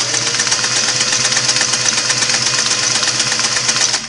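A restored Singer Model 503A sewing machine stitches lightweight fabric with a wide stitch, running loud and steady the whole time with a fast mechanical whir and rhythmic clatter.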